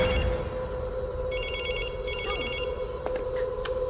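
A telephone rings in bursts of bright electronic trills, repeating with short gaps and going unanswered; no one speaks.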